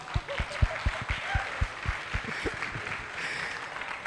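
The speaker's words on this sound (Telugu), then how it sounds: "కొట్టొచ్చు క్లాప్స్" Audience clapping at a film success meet, a burst of distinct hand claps that quickly blends into a broader crowd applause, fading out toward the end.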